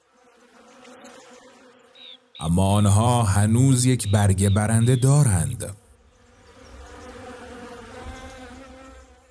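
Wild honey bees buzzing around summer plants, a close, continuous insect drone that swells loudly and then fades to a softer hum, with a narrator talking over the loudest part.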